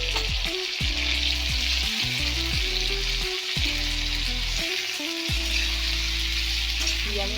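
Ginger and cumin pastes sautéing in a pan, a dense continuous sizzle with repeated loud scraping strokes of a spatula in an uneven rhythm, no voices.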